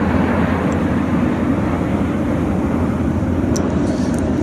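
A display team jet at an air show gives a loud, continuous broadband roar that stays steady throughout, heard from the crowd with no talking over it.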